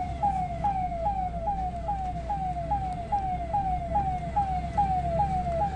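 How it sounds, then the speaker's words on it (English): An ambulance siren wails in a steady repeating up-sweep pattern on BC Road in Bantwal, Dakshina Kannada, loud and continuous over a low rumble of road traffic. "Even as the ambulance horns were blaring, this car did not give way for the ambulance."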